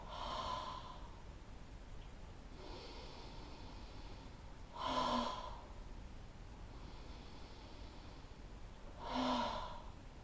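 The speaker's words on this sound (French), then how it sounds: "on va essayer de souffler longtemps par la bouche et assez fort" Forceful breaths blown out through the mouth during a back-stretching session, three separate exhalations a few seconds apart over quiet room tone.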